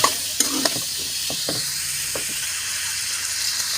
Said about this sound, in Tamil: நல்லா வதங்கிட்டு இருக்குது பாருங்கள்